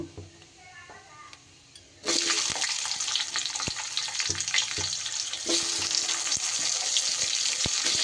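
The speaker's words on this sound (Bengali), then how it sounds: "আলুটা দিয়ে এবার আলুটা একটু কাঁচা গন্ধ যাওয়া অবধি আলুটা একটু ভেজে নেব" Cut potatoes drop into hot oil in a pan and set off a loud, steady frying sizzle that starts abruptly and continues with occasional clicks of a utensil.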